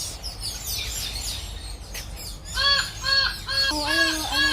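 Green parrots calling in a Barbados nature park: a run of repeated harsh, nasal squawks, fairly close and rhythmic, that builds over a soft outdoor background.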